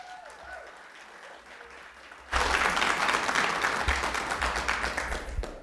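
After a short quiet stretch with a voice, an audience at a candidates' forum breaks into loud, sustained applause that carries on to the end.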